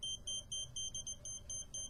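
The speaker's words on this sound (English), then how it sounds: "the beep changes frequency, the stronger the signal" A non-contact AC voltage detector pen beeps in rapid, evenly spaced high-pitched pulses, about eight in under two seconds, close and clear over a low hum.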